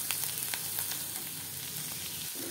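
Banana stem (thor) frying in a pan with salt and sugar but no added water, a brief, close, crackling sizzle with light stirring.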